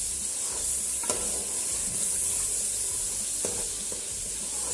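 Masala roasting in released oil in a pan for chicken kofta curry, a loud continuous close sizzle with occasional light scrapes of a stirring spoon, no talking.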